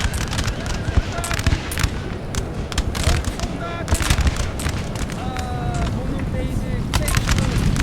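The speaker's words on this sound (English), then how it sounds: "I'm getting a little bit of stray bullet fire to this lovely infantry unit" Napoleon Total War battle at the pyramids: volleys of musket fire crackle in rapid irregular bursts, some close and sharp, others distant, over a constant din of battle with talking throughout.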